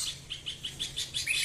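A bulbul calls in a run of short, bright chirps, repeated roughly every fifth of a second and rising in pitch and intensity toward the end, fairly near and clear over quiet background.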